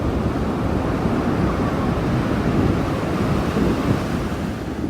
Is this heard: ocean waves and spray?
yes